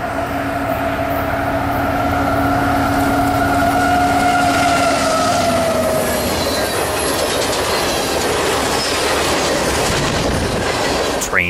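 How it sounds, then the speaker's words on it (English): A Canadian Pacific empty crude oil freight train rushes past at speed, loud and close, with wheels squealing in long high tones early on, then a dense rumbling clatter of wagons continuing to the end. "It wasn't until then that train 575 snuck up on me at speed."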